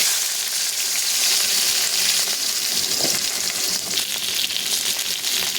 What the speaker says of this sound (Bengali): সবজিগুলোকে আমি ভালো করে নাড়াচাড়া করে তেলে ভেজে নেব